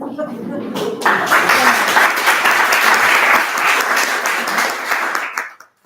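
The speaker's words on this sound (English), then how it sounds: "Big clap here, Nikki." An audience at a seminar applauds, a dense burst of clapping that swells quickly after a brief voice and holds steady for several seconds before fading out.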